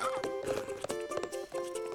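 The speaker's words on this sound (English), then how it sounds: "I'm a wild horse." Cartoon horse hooves clip-clop in a quick, steady rhythm alongside a bright musical score, with a whinny mixed in; the sound is close and lively.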